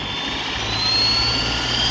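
Flywing FW450 V3 RC helicopter motors spinning up, a loud, close, steady whine with a rising high-pitched tone over a continuous whooshing rumble.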